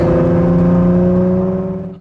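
A 2005 Ford GT sports car droning loudly and close by on the road, its steady engine note holding strong harmonic tones before tapering off toward the end.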